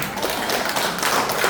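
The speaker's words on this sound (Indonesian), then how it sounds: "Tepuk tangan dulu dong." A church congregation claps hands during a Sunday service, a dense, continuous patter of many hands clapping together at steady loudness with no pause.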